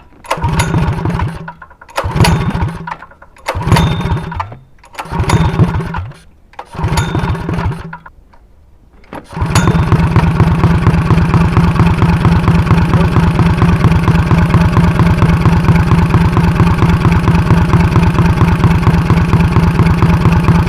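A dirt track racing engine on a streaker go-kart is pull-started, with several short cranking pulls followed by a loud, steady running idle that holds for more than ten seconds.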